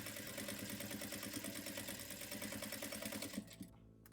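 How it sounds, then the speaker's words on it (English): A sewing machine stitches elastic into ruffle trim in one continuous, close, steady mechanical whir with rapid needle pulses, stopping abruptly near the end. "So let me just quickly sew this in place."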